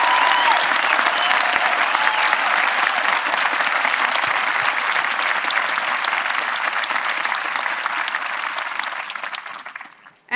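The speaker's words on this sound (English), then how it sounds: "Please join me in applauding the class of 2022 and their efforts." Sustained applause from a large graduation audience honoring the class of 2022 at a Concord-Carlisle High School ceremony, a steady dense wash of clapping lasting about ten seconds before cutting off abruptly.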